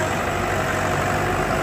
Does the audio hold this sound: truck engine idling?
yes